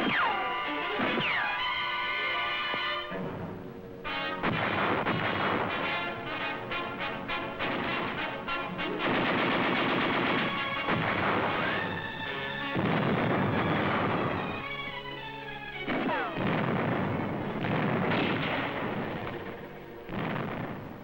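Marine machine gun and artillery fire from a hastily built firing line on Okinawa in 1945, heard as dense bursts, heavy booms and crashes rolling through a loud, harsh and continuous battle soundtrack.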